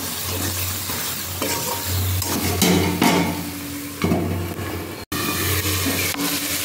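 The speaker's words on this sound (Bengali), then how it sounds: "মশলা কষতে শুরু করে দিয়েছে।" Spice paste with tomato and salt sizzles in a pan while being stirred, with repeated close scraping strokes over a steady frying hiss and a brief pause near the end.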